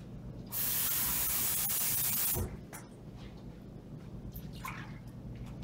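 Water gushes loudly from a running tap for about two seconds while BBQ sauce is being made, then cuts off, leaving faint kitchen clatter and background hum.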